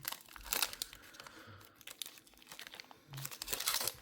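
Foil wrappers of Pokémon card booster packs being torn open and crumpled, with loud close crinkling bursts at the start and end and lighter rustling between, no talking.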